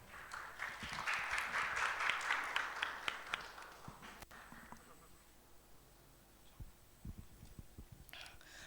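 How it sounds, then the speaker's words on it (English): Faint applause from the audience at a hackathon swells over the first few seconds and fades by about the fourth, followed by scattered thumps and quiet room noise. "Let's give them a big round of applause."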